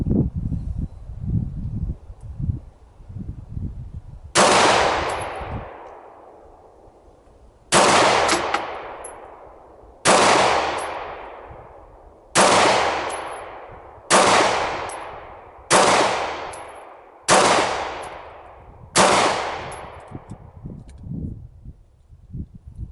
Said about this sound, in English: this Remington 115 grain full metal jacket factory load out of the Remington R51